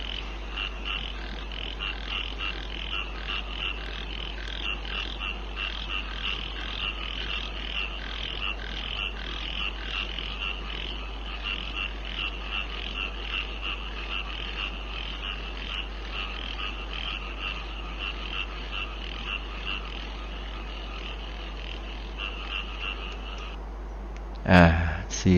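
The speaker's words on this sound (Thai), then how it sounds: "ไปสนใจเสียงกบเสียงเขียดก่อน" Frogs croak and chirp in a dense, steady chorus throughout, a continuous pulsing texture that holds at an even level, with a brief louder knock near the very end.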